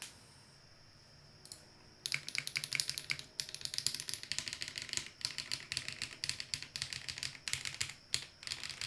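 Rapid typing on a Matrix Navi mechanical keyboard, crisp clacky keystrokes in quick bursts with short pauses, close and clear with no talking.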